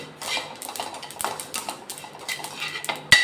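Roasted sesame seeds tipped from a pan into a bowl in a home kitchen, heard as a string of light metallic scrapes and clinks with a sharper clatter near the end, close and moderately loud with no talking.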